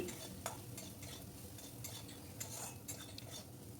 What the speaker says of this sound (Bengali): এই মশলাটা একটু তেলের মধ্যে নেড়ে নেব